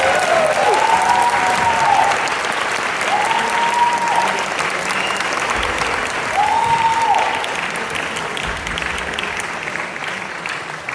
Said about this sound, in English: can we all give them a one big round of applause?